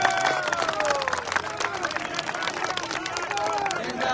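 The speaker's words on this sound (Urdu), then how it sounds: "اس کے لیے تالیاں بجائیں تاکہ قوموں کو پتہ چل جائے." A crowd at a political rally for Imran Khan's party in Kohat, Pakistan, breaks into scattered clapping and cheering, with whistles and voices rising over the applause.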